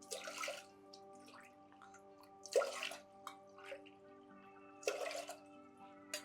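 Water splashes into a pressure cooker holding green gram in three short separate pours, fairly quiet, with a steady low hum in the background.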